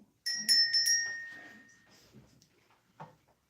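A small bell is struck a few times in quick succession, bright and ringing, then fades out with a faint clink at the end.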